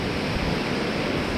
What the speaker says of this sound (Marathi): इथून पण एक वॉटरफॉल येतोय जो समोर पाहू शकतो.